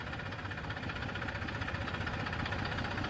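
Tractor engine running during a farmers' tractor march on an expressway, a steady low droning rumble with constant mechanical vibration, moderately quiet, with no talking.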